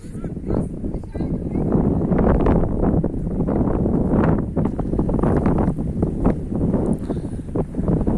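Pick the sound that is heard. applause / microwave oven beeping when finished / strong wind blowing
strong wind blowing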